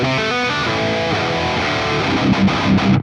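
Electric guitar played through the STL Tones Lasse Lammert Tonality amp plugin, a loud, heavily distorted riff of sustained chords and chugging palm-muted notes that stops abruptly at the end.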